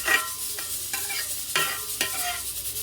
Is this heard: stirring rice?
yes